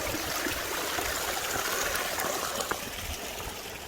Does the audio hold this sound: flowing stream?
yes